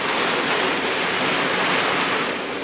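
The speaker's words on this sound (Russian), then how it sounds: "Водой моет свои окна." Water sprays steadily from a garden hose onto windows and a terrace roof at a home in Spain, a constant close hiss and rush of spray with no pauses.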